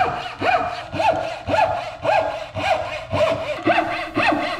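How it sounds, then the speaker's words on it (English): Bow saw cutting through wood, about eight rhythmic back-and-forth strokes at a steady pace, close and clear with no talking. "On the second side, I used the bow saw."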